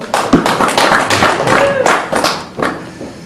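Comedy show audience voting by applause, a short burst of claps mixed with cheering and voices, fairly close and loud, fading after a couple of seconds.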